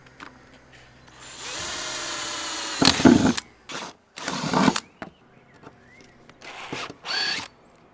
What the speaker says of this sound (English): and now I'm drilling my hole.